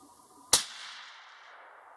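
One sharp, loud crack from a .308 Ruger American Predator rifle fired at a target, followed by a short fading echo outdoors, with no talking.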